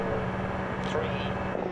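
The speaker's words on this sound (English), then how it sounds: "This car's a beast. Hear it," A rally car's engine in Dirt 4 drones steadily at high revs for a couple of seconds, a constant loud roar with slight pitch wavering and no one talking over it.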